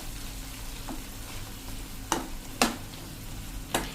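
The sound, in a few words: stirring fresh cream into sautéed vegetables in a pan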